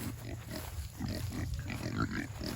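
Kunekune pigs grunt in short, repeated low bursts close by on a farm, a soft rhythmic series of snorts and oinks.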